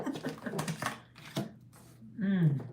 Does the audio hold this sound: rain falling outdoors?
no